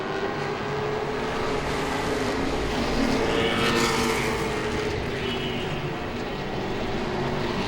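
Late model race cars circling Langley Speedway, a continuous dense engine roar from several cars with a swell as the pack passes nearby, steady and loud with no talk.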